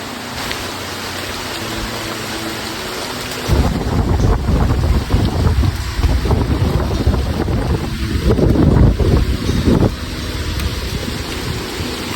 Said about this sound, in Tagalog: tumila dito ang ulan pero hindi nagtagal ay lalo pa itong lumakas at sinamahan pa ito ng malakas na hangin